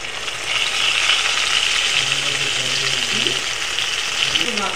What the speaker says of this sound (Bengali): এর মধ্যে এবার মশলা বাটাটা দিয়ে দেবো।